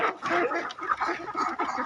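A large flock of about three hundred laying ducks quacks in a dense, overlapping chorus, with repeated nasal calls piling up nonstop at close range.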